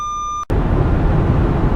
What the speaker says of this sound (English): And a radar warning on top of that.